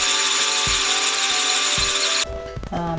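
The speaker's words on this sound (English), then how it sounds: "pre-drill all the holes in this and in the masonry" A power drill pre-drills holes in a wooden fireplace mantel, giving a loud, steady, close whine that shifts pitch and becomes rougher near the end.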